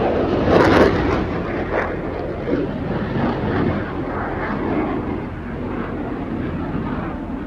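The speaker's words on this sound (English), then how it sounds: "we got to watch some of the planes taking off" Loud military jet aircraft taking off and roaring overhead, a broad steady rumble that swells early then holds, with no voices.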